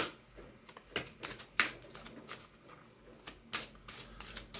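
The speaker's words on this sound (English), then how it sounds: "I gotta shuffle these cards, get the energy going" A deck of oracle cards is shuffled by hand in quick, irregular riffles and snaps, sharp crisp bursts close to the microphone with quiet gaps between them.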